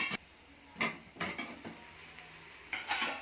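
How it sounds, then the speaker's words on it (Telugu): A spoon stirs a pot of cooking broken wheat uggani, making a few separate metallic scrapes and clinks against the pot at a moderate distance. Quiet gaps fall between the strokes. "మధ్యలో కొంచెం ఒకసారి ఇట్లా తిప్పాలి"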